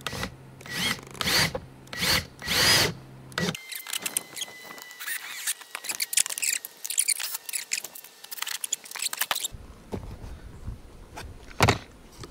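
A cordless power drill driving screws into a motorhome roof outdoors, with several loud whirring bursts in quick succession, then quieter scraping and handling noises and a final short burst of the drill.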